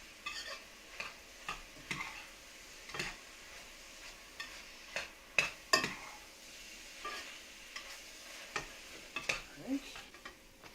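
Goulash being stirred in a pot, giving soft scraping and clinking strokes at an irregular rhythm with a faint sizzle underneath, moderately quiet and close.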